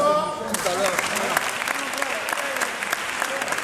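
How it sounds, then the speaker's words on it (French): A crowd applauds loudly and steadily for Nadi d'Aboissou during a visit to the presidency of Côte d'Ivoire, a continuous wash of clapping with voices calling out beneath it. "Il faut l'applaudir très fort."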